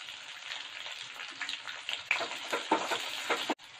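Sliced large onions sizzle steadily in hot oil in a pan for vegetable pulao, a close, continuous crackle with soft stirring scrapes, then an abrupt stop at the end.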